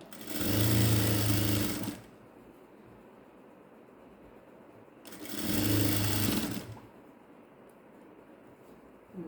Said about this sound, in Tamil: நான் இன்னும் கொஞ்சம் தூரம் தைச்சிட்டு வர போகிறேன்